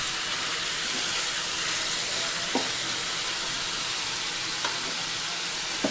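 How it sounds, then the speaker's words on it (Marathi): Bitter gourd (karela) frying in hot oil, a continuous dense sizzle close by with a few brief clicks of a utensil, steady and fairly loud throughout. "आता याला तेलामध्ये चांगलं आधी फ्राय करून घेते."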